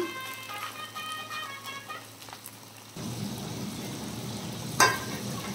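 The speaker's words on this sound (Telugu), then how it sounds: "ఆయిల్లో గోల్డ్ కలర్ వచ్చే వరకు ఫ్రై చేసుకోవాలండి." Prawns fry in oil in a pan for a pickle, a soft crackling sizzle that rises and thickens partway through, steady and close with no talk.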